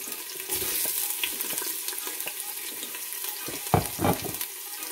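Garlic and ginger sauté in a pan for chicken tinola, giving a close, steady sizzle with a few louder stirring clatters toward the end and no talk.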